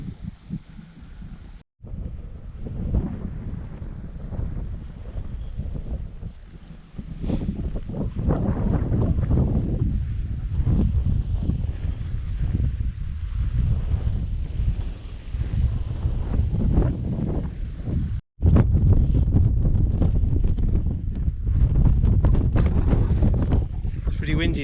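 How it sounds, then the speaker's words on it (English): Strong, icy wind blasts across a ridge on Arenig Fawr, a Welsh mountain, buffeting the microphone in loud roaring gusts that build and fall over the whole stretch, with someone speaking now and then. "Pretty windy now."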